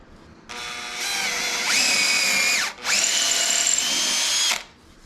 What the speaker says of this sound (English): I know I'm drilling that into the end grade